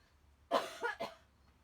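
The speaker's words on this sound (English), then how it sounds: "I'm going to cough, excuse me." A single person coughs up close, two or three short harsh bursts in quick succession, then quiet.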